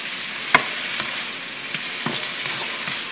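Meat for enchiladas frying in a pan, a constant close sizzle broken by several light scraping taps as it is stirred, with no voices.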